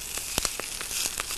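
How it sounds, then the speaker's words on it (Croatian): Rolled meat skewers with cheese fry in a hot pan, giving a steady, close sizzling hiss with sharp crackles and pops scattered throughout. "I sada ide da se prži."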